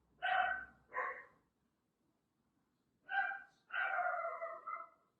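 Pet dogs barking indoors in loud, close bursts: two quick barks, a pause, then another bark followed by a longer drawn-out barking run.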